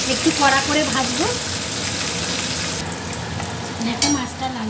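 Fish frying crisp in a wok-style pan of hot oil, a close, busy sizzle with bubbling crackle and some stirring scrapes, fading somewhat after a few seconds.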